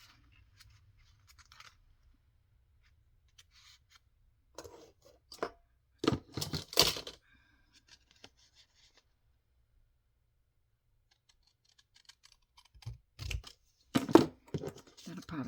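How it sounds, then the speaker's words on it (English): Scissors snip paper for a junk journal pocket in a few short, close bursts separated by quiet pauses. "Okay, so let me just cut this off."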